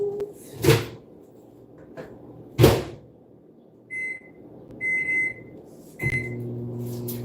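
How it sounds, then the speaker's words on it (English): Leftovers going into a microwave oven: two solid thuds of the door and handling, a few short electronic keypad beeps, then the oven's steady low hum starting up close by. "Now, get this in the microwave."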